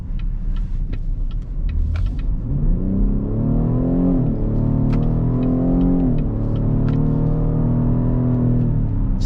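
A 2023 Cadillac XT6 SUV with a 9-speed automatic, driven in sport mode on a test drive, accelerates with a steady engine hum that rises and shifts in pitch through the gears, heard from inside the cabin with no talk.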